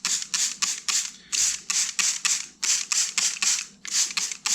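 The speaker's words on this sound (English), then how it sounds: "So I like to use a spray bottle and have it on the mist setting" A spray bottle on mist setting fires repeated quick sprays over seed soil in eggshells, a rhythmic series of about fifteen close, sharp hissing bursts in clusters with short gaps.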